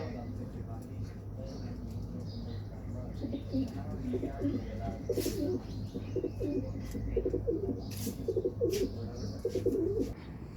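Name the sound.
pigeons cooing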